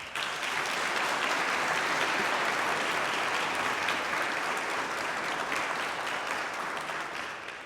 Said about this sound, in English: Let's give a massive round of applause to Davis' family